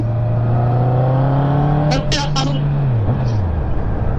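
A Honda CB650 motorcycle engine on a racetrack holds a loud, steady drone that rises slightly, then drops in pitch as it eases off, close by and dominating the scene.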